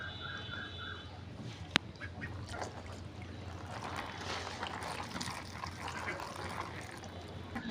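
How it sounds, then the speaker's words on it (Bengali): Ducks gathering at freshly poured cold water to bathe, with soft splashing and faint quacking under a low outdoor hum, plus a single sharp click early on. "দেখেন পানি দিতে না দিতে হাঁসগুলো চলে এসেছে গোসল করার জন্য।"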